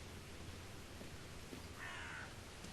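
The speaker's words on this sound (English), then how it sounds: "Silly crow" A crow caws once, faint and somewhat distant, over a low steady hiss of ambient noise in the eerie amusement park of the video game The Park.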